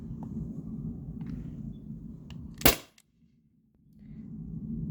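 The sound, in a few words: modded T4E HDP50 HPA marker firing a shot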